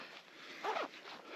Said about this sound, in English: Always do up your zippers on your jacket pockets